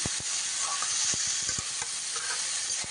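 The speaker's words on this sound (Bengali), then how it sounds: "দিয়ে এবার ভালো করে মশলার সাথে মিশিয়ে নিচ্ছি।" Potatoes with onion, chili and spices sizzle steadily in a frying pan as a spatula stirs them, with a constant bright hiss broken by a few soft scraping taps, close up and with no talk.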